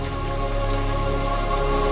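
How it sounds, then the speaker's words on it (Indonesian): Heavy rain on a cliffside during a stormy scene in the 2011 film Real Steel, a loud dense continuous downpour under a steady low hum, with no voices. "Saat hujan turun"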